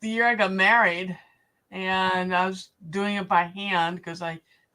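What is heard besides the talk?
No everyday noise stands out behind the speech.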